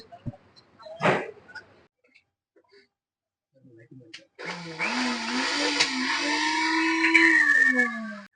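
After scattered quiet knocks, a household mixie that had been repaired for a lever-lock fault whirs up close and loud, a steady motor whine with a rising pitch that holds for several seconds.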